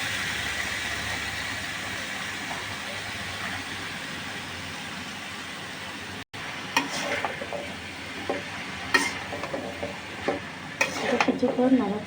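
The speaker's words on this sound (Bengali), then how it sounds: "মশলাটা কষানো হয়ে গেছে, আমরা পুঁইশাকটা দিয়ে দেবো।" Malabar spinach is stirred into fried spice paste in a pan: a steady, close sizzle runs at first, then a brief drop gives way to uneven scraping and stirring clatter over the frying.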